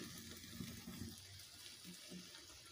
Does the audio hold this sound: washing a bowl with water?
yes